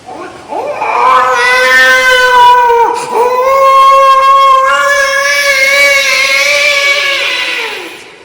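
A man mimics a young boy crying, producing long, loud, wavering wails that break once briefly and then carry on in one sustained cry.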